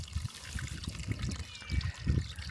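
Water trickles and gurgles into a grey water pond on a homestead, a faint, close, uneven splashing flow with small rhythmic surges and no voices.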